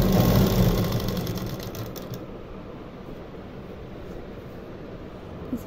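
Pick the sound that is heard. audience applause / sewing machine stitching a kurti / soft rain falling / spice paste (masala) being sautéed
sewing machine stitching a kurti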